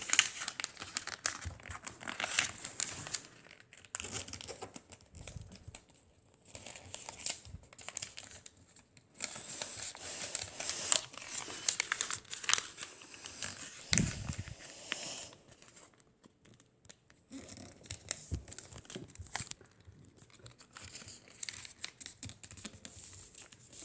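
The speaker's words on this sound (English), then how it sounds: "Fold it over. And then just like this, you're just going to fold it over like that." Paper being folded and creased into an origami bowl, with repeated crinkling and crisp rustling close by in bursts across the clip, interrupted by short quiet gaps.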